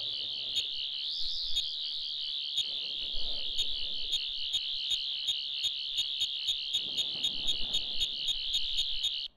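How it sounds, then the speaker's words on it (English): A Doctor Who sonic screwdriver in the game Gmod beeps continuously in a steady, rapidly pulsing high electronic tone. It stays loud and even throughout, over faint background sounds, until it stops abruptly at the end. "it'll make the sonic screwdriver beep when you're, and it'll beep louder when you're facing towards it."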